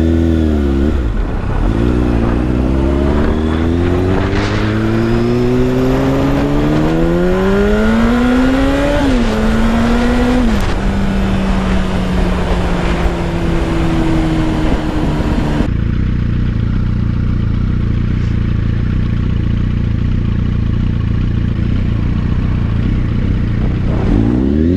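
Sporty motorcycles rev hard and ride past, engines climbing and falling in pitch through several gear changes, loud and close, before settling into a lower, steadier drone as they move on.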